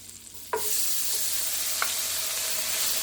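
Chopped onion hits hot melted butter in a pan for a shrimp risotto, a sudden loud sizzle that holds as a steady broad hiss, with a brief stir or scrape later.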